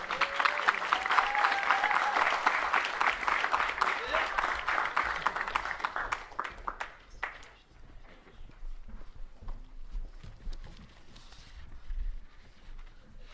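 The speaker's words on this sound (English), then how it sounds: "deserves a round of applause too" Audience applause at a fall capstone festival, dense and loud clapping that thins into scattered claps and fades, with voices heard under it.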